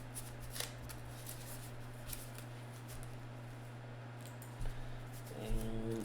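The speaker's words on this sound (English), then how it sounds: "Let me just finish shuffling our heroes here" Legendary deckbuilder hero cards are shuffled by hand, a continuous riffling and sliding under a steady low hum, with a brief burst of handling near the end.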